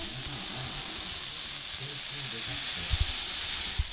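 Rice bowl toppings, freshly tipped onto an oiled iron griddle, sizzle and crackle steadily in a close, continuous hiss, with a few soft clunks near the end.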